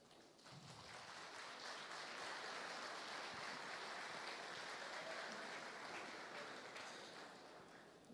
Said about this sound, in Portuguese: quero que você receba com a salva de palmas